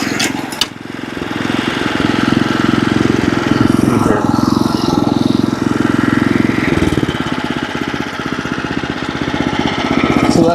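A mower runs steadily and loudly close by while cutting a putting green to 1.7 mm, a continuous mechanical drone with a rapid rattling pulse and slight swells in level.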